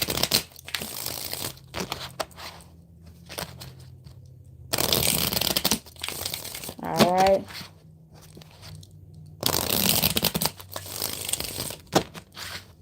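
Bursts of crisp tarot card shuffling, riffles and rustles in several separate bouts, with a person speaking briefly between them.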